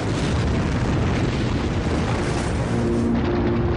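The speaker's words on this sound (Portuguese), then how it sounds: "essa pressão faz com que o asteroide ou cometa exploda" An asteroid or comet bursting apart high in the atmosphere, heard as a sustained, dense broadband roar that stays loud and rumbling throughout with no clear separate blasts.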